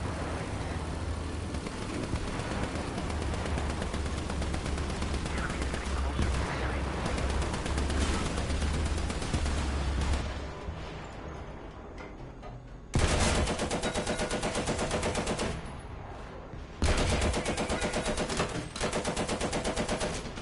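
Tank-mounted machine gun in War Thunder firing long sustained bursts, loud and close, broken by short pauses and then resuming in rapid rattling volleys.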